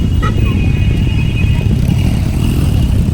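Cars and motorcycles pass on a busy mountain road near Kaghan, a steady loud engine rumble with revving, while people talk over it.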